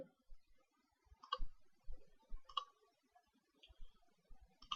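Computer mouse clicks at a desk while building a web page table, a few sharp isolated clicks spaced over several seconds, quiet and close with no talking.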